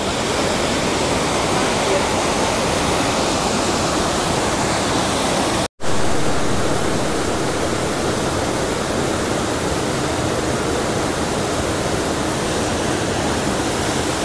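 Pala U waterfall near Hua Hin, Thailand, a loud, constant roaring rush of falling water heard close up, broken by one very brief dropout midway.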